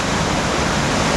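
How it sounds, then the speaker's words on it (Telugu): Kothapalli waterfall in heavy flood, a loud, dense, unbroken roar of rushing water filling the whole moment with no voices. "కొత్తపల్లి జలపాతానికి భారీగా వరద నీరు చేరుతోంది."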